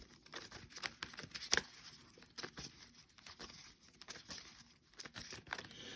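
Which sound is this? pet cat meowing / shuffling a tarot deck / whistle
shuffling a tarot deck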